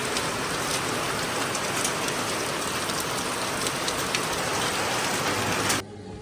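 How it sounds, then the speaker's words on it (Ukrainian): Steady, dense downpour of heavy rain with a constant hiss across the whole clip, cutting off abruptly near the end. "Воно який дощ."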